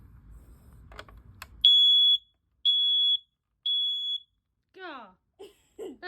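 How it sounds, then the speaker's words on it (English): A household smoke detector under test sounds three loud, piercing beeps in a regular rhythm, close by, followed by people speaking briefly afterward. "Point it to the smoke detector."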